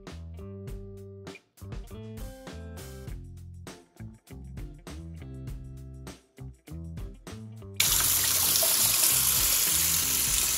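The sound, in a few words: washing apples under running tap water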